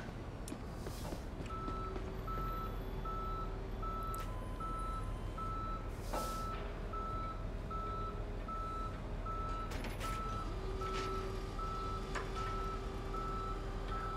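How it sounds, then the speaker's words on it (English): Tow truck in the Police Simulator game reversing, its backup alarm beeping in a steady, evenly spaced series throughout over a constant low engine rumble, with occasional clanks and air-brake hisses. "They got a nifty tow truck in here."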